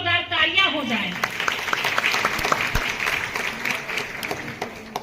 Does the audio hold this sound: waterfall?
no